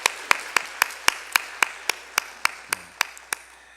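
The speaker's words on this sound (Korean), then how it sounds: "우리 같이 한번 그분들에게 박수를 한번 쳐드리죠." A church congregation claps in unison at a Sunday service, producing sharp, evenly spaced beats about four per second. The claps are close and clear, with a brief voice slipping in midway.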